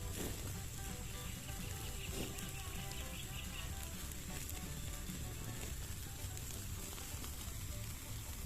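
Chicken legs grill slowly over a low wood fire at a campsite, giving a steady, faint sizzling hiss with no break, a soft crackle here and there underneath.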